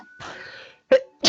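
A person sneezes during a tabletop role-playing session. A quick sharp inhale is followed by one close, loud burst, then a second short explosive sound.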